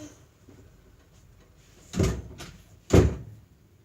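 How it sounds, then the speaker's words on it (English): A door is shut twice in quick succession, two sharp thuds about a second apart against a quiet room. "I have to shut the door, it's too windy."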